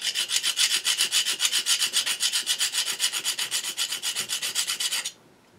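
A flat file rasps back and forth across a barrel trimmer blade in quick, even strokes, about four per second, loud and close, before stopping abruptly near the end.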